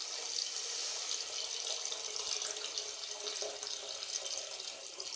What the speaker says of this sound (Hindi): इसके अंदर 2 कप मैं पानी ऐड करूँगी